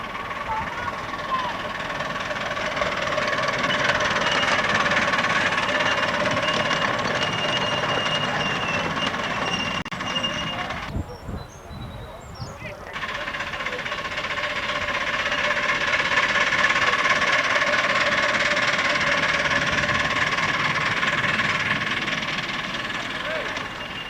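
A model engine designed to be built on a Myford lathe runs steadily at a 1995 or 1992 open weekend, a continuous mechanical drone with a short drop partway through.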